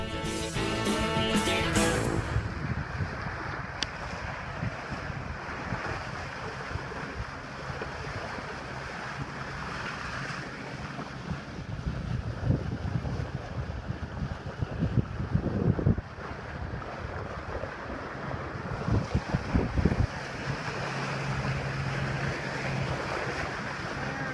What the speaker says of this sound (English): We had a great sail with consistent winds and calm seas.